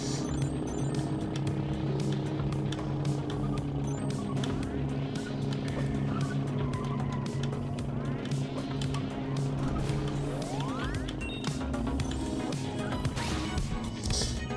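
In a kart racing video game, engines hum continuously while tires squeal through corners, with occasional crashes and thwacks in a dense, busy mix of game sound.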